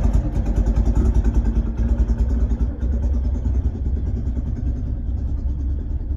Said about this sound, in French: Le moteur il bouge pas dans tous les sens.